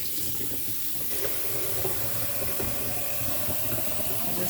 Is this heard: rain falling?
no